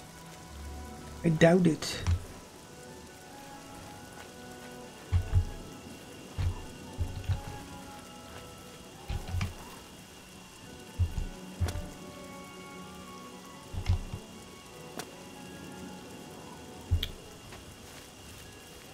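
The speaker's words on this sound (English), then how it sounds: "See, it is raining after all." Rain falling in the video game Oblivion, a soft steady patter running under the whole scene, broken by scattered footstep-like thumps, with someone speaking briefly near the start.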